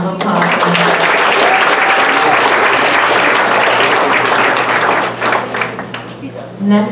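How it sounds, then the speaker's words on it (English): An audience at a founders' event claps loudly and continuously in a dense burst of applause that thins out near the end as a voice begins to speak. "let's give another round of applause"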